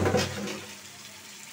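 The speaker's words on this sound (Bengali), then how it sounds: "আমি কচুটা দিয়ে দিব এখন" Pieces of taro tipped into a pan of prawns already cooked down in spices, giving a short splashy, hissing burst that fades into a quieter sizzle.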